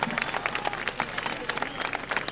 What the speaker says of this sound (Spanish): El aplauso con todo cariño.